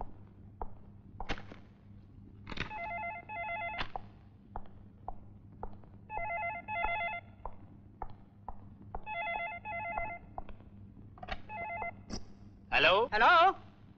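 Telephone dialing tones followed by repeated bursts of an old-style phone ringing, in a family drama scene, with a low steady hum underneath and brief thumps between rings.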